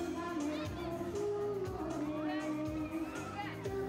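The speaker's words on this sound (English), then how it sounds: "there's always a happy crowd of people wandering around, just eating popcorn and people watching" A relaxed crowd of families mills about on pedestrian Mother Teresa Street in Kosovo, their voices and children's chatter forming a faint, steady murmur with music in the background.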